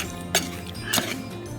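Raw beef mixed with tomatoes and salt in a pan for Kerala beef fry, with two sharp metallic clinks of a utensil against the pan over a quiet kitchen background.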